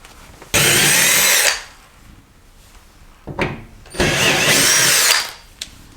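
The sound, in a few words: screws being removed from refrigerator cardboard cover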